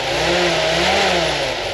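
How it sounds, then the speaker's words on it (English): A World War II Willys Jeep engine revs up and down smoothly, loud and close, its pitch rising and falling over a constant droning hum. "So we're going to rev the engine now, it's nice and smooth this one."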